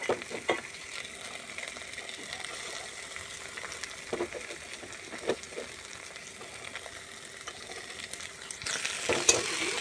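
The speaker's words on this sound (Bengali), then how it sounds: "এদিকে টমেটো, কাঁচামরিচ, আদা, রসুন এদিকে একটু ভালো করে ভাজা নিছি।" Tomato, green chilli, ginger and garlic frying in a pan, with a steady soft sizzle and occasional scraping stirs, close and fairly quiet throughout, rising slightly near the end.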